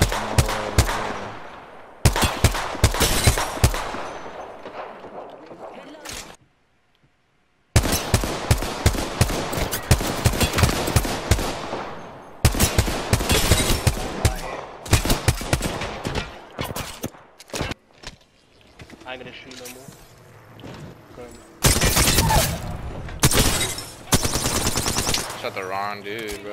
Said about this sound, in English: I'm just hip firing from all the way over here.